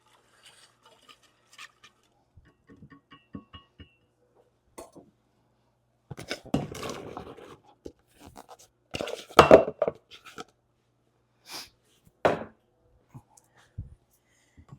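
Apple cobbler ingredients are mixed in a bowl, heard as sparse clinks, scrapes and taps of a utensil against the bowl, close and intermittent with quiet gaps.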